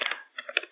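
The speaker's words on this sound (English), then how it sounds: "we type the inches here also" A few quick keystrokes tap on a computer keyboard, close and fairly quiet, in a short isolated burst with a small pause between taps.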